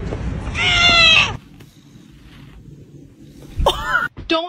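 A cat meows twice close by, a long drawn-out call followed after a quiet pause by a shorter, rising one.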